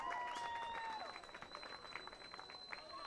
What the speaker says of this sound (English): Gets a big cheer also celebrating his senior day here tonight